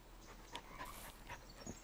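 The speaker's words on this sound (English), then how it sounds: "Oh, good boy. You found a thing. Yeah, good dog." A dog in the Blair Witch game pants softly in quick, irregular breaths with faint whimpers, close but quiet against a low background hum.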